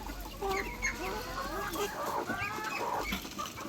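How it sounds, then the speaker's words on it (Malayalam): Small chicks chirp and peep in a busy overlapping chorus, close by, while a background voice murmurs indistinctly. "എൻ്റെ കോഴിക്കുഞ്ഞാവ"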